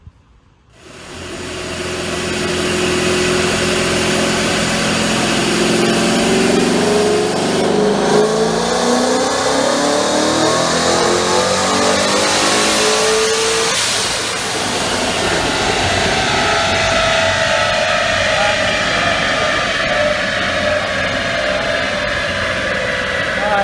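A Mustang with a Vortex supercharger, bolt-ons and stock exhaust revs hard and steadily on a dyno, its pitch climbing through the run, loud and continuous with a throaty whine, then easing slightly near the end.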